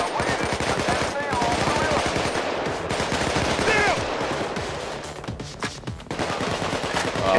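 Sustained automatic gunfire from a heist shootout on hard difficulty in the video game PAYDAY 2, with rapid shots rattling almost nonstop at full loudness while a player talks over the din.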